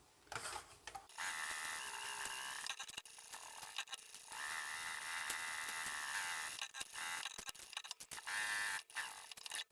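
A sewing machine runs in bursts doing top stitching on fabric pot lid covers, a close, quiet, high whirring buzz broken by short pauses.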